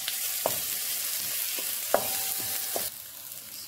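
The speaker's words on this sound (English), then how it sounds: "So this is sizzling in well now." Kpomo (cow skin) and other abacha ingredients sizzle and fry steadily in a pan, a continuous crackling hiss broken by a few sharp stirring knocks, close and fairly loud with no talk.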